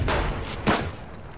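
Grenade blast in the co-op shooter game Subsistence: two heavy booming bursts close together, loud and near, with a short rumbling tail and no speech over it.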